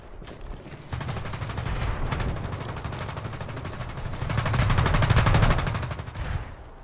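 Rapid bursts of automatic gunfire in War Thunder's infantry mode, dense crackling volleys layered over one another with no pauses, building louder toward the end before dropping off.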